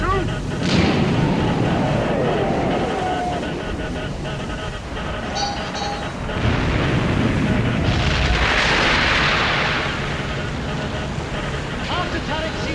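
War of the Worlds sound effects of a warship's turret guns firing in a sea battle against Martians, with heavy booms and a rumbling roar of explosions mixed with sweeping tones, dense and loud throughout.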